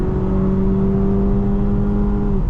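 A 2025 Mazda CX-5 in sport mode revs up hard toward 4,000 RPM, its loud engine drone holding a steady tone from inside the cabin before cutting off abruptly near the end.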